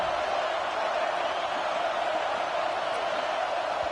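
Stadium crowd at a football game roaring steadily during a red-zone defensive stand late in the game, a broad continuous wash of distant massed voices with no breaks.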